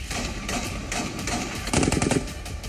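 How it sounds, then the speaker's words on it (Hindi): Bursts of rapid gunfire crackle in news footage of a militant attack on a police lines compound in Khyber Pakhtunkhwa, Pakistan, with repeated sharp shots clustered in quick volleys and a denser burst near the end. "दोनों तरफ से ताबड़तोड़ गोलियां चलने लगी।"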